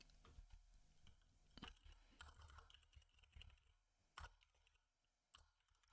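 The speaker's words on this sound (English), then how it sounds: "How loud is my keyboard, by the way?" Keystrokes on a computer keyboard with linear switches, soft irregular clicks and taps at moderate distance during a relaxed live coding session, fairly quiet with a few sharper presses.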